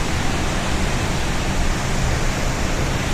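Water rushes through the eight open gates of the Upper Sileru dam in heavy flow, a loud, steady, close roar with no break and no voices.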